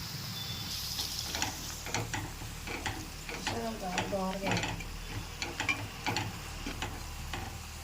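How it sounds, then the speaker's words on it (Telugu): Turmeric, coriander, cumin and chilli powder sizzling in a pan for a fish curry, a low steady hiss with scattered scrapes and clinks of a spoon, close and moderate in level. "ఇప్పుడైతే నేను పసుపు వేసుకుంటున్నానండి, అలాగే ధనియాల పొడి, కొద్దిగా జీలకర్ర పొడి, అలాగే కారం కూడా వేసుకుంటున్నాను."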